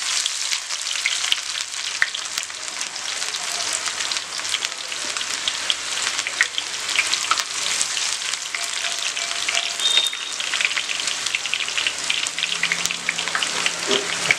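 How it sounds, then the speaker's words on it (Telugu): Hand-torn onion pieces deep-frying in hot oil after cashews for chicken biryani starters, giving a loud, steady, crackling sizzle that runs unbroken the whole time with no talking. "అప్పుడే మంచిగా డీప్ ఫ్రై అవుతుంది."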